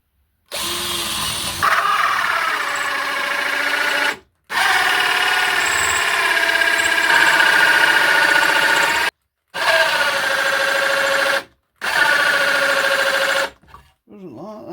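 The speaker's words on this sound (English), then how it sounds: "Now we've charged the drill up." A freshly charged cordless drill bores a hole in a garage, with loud whirring bursts of several seconds each, separated by brief pauses.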